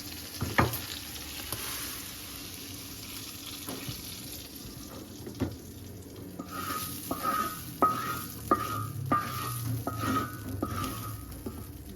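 Chilies and spices lightly frying in oil for achari daal, a soft sizzle with scattered spoon knocks and scrapes, later joined by running tap water and clinking.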